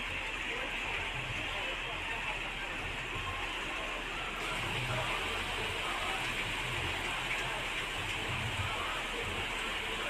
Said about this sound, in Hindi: झमाझम किस तरह से बारिश हुई है वो आपको तस्वीरों में दिखाई दे रहा है।